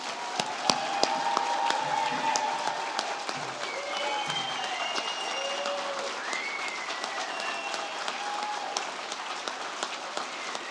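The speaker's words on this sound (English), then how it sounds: "please join me in a final round of applause for all our" An audience at the IWA2025 entrepreneur and community event gives the 2025 finalists a long final round of applause, sustained clapping with a few cheers and whoops rising over it.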